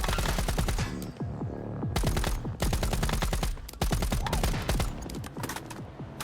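Rapid rifle gunfire crackles through a busy firefight in the survival shooter Once Human, with sharp, loud shots in quick bursts and brief pauses between volleys.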